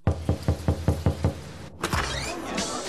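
Eight firm, evenly spaced knocks on a door come up close and loud, then stop, and a rushing swell of noise takes over.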